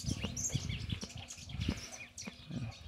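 A blue grosbeak (azulão) sings in short chirping phrases, close and fairly faint, with bursts of notes repeating through a few seconds over low background noise.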